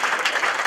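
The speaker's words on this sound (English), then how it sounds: "Let's give it another round of applause for Murph." A short burst of audience applause at a comedy show, steady clapping from a crowd with no voices on top.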